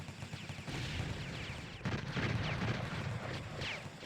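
Grenade blast during a competitive video game match, a burst of loud, dense explosive noise amid ongoing gunfire-like crackle lasting several seconds, with no voices on top.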